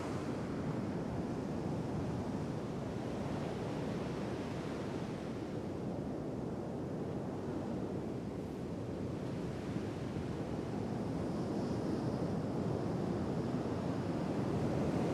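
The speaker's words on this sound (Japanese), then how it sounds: "本当の海だ。" Steady roar of real sea waves and surf washing in continuously, loud and broad with wind noise on the microphone, no voices.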